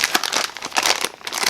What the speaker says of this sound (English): And inside comes this bag that's plastic.